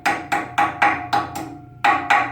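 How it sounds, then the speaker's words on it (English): Seven sharp metallic hammer strikes ring out close up as a stainless steel split pin on a trailer wheel bearing is bent over, spaced in a quick uneven rhythm with a short pause before the last two blows. "So what we do is get a hammer out and we just bend it over"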